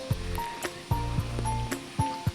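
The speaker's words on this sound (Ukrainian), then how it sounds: "І там з парасольки йде така вода." Water splashes down from an umbrella-shaped fountain at a children's outdoor pool in a national park in the Carpathians, a steady, moderately close spray with a few brief knocks over it.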